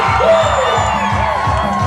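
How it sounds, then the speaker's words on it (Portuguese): Crowd at a festival in Curralinho, Marajó, shouting and cheering in a loud, dense wash, with a rhythmic pulsing beat and music-like tones mixed in throughout. "Cadê o grito da galera da panela? Vamos lá, quero ouvir!"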